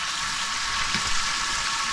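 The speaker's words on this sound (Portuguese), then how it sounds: "Tá, ela tá fritando ali mais." Meat fries in a pan with a steady, bright hiss and a few faint crackles, heard close up with no talking.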